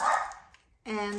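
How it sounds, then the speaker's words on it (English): A dog barking once in a home kitchen, a single sharp bark up front, followed by a brief pause and then a person starting to speak. "excuse the dog that barks at anything that moves."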